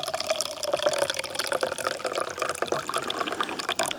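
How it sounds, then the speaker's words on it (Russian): Tea being poured from a kettle or thermos into a cup outdoors on a winter ice-fishing trip, a steady close liquid stream with small splashing and gurgling, running continuously for about four seconds with no talk. "давайте, ребята, наливаем себе чайку"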